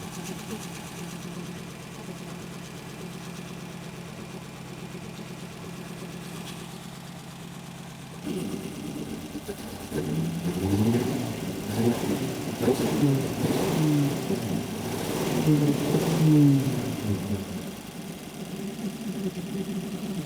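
An old Buick engine idles with a low steady rumble, oil burning off the exhaust manifold, then a voice talks over it before the motor revs up twice, rising and falling, a little rough.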